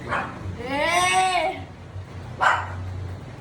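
Dogs bark and whine close by: a short yelp, then a drawn-out rising and falling whining cry, and another sharp bark a moment later.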